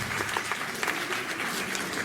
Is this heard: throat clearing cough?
no